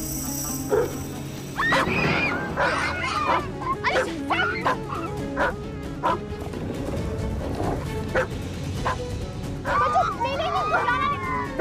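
A dog barks in sharp bursts and whimpers with high yips between them, loud and close, while people talk over and around the commotion.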